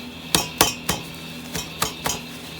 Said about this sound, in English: we're gonna crack this egg